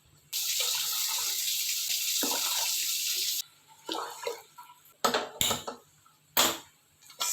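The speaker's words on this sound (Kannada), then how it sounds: "ಸೊ 3 ಗ್ಲಾಸ್ ನೀರು ಹಾಕ್ತೀನಿ." Water poured from a glass onto rice in a pressure cooker, a steady splashing stream for about three seconds, then several short, louder pours and splashes with pauses between them, close by and with no talking.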